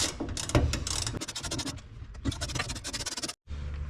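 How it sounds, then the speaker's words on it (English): A hand ratchet loosens the trunk latch bolts on a 1967-69 Camaro, with close, busy clicking and scraping that runs almost without a break and stops briefly near the end. "Okay, so we'll take these 3 bolts loose."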